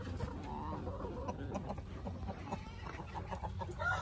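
Silkie chickens cluck softly outdoors while they forage with their chicks, a low, continuous murmur of fowl sounds with faint background activity.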